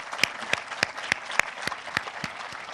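Audience applause at an inauguration and groundbreaking ceremony in Gilgit-Baltistan, honouring students and parents: a steady, rhythmic run of distinct, evenly spaced claps, fairly clear and close, with no talk over it.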